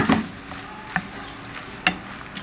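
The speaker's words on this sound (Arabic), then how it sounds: "بدي أحط البصلة الخضراء، بقلبها شوي صغيرة مع اللحمة" A spoon stirs chopped green onion into meat frying in a pan, making three sharp scraping clacks spaced about a second apart over a steady low sizzle, with no talking.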